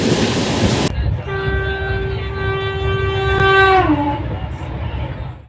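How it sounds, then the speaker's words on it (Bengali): The Tambaram–New Tinsukia Express sounds a loud, sustained horn close by at Rampurhat Junction, the tone dropping in pitch as it ends, over a constant rumble of rolling rail cars. "নির্ধারিত সময় থেকে 3 ঘন্টা দেরিতে আমাদের ট্রেন এসে পৌঁছালো রামপুরহাট"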